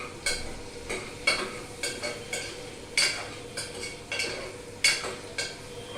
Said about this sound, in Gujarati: હવે આપણે આને બરાબર મિક્સ કરીએ.